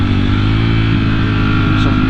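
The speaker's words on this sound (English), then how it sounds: "So I've got a Harley rider ahead of me." Harley-Davidson motorcycle engine on the road, a steady loud low throb with strong harmonic drone held throughout, heard close while cruising.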